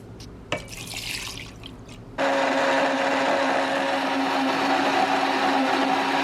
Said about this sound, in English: I'm going to mix it together in this little blender, which is Keisha's